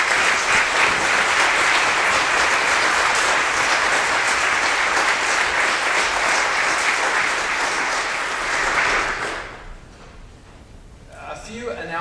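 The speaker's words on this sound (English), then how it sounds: "a warm round of applause" A presbytery meeting audience gives a warm round of applause, sustained and loud for about nine seconds before it cuts off to near quiet.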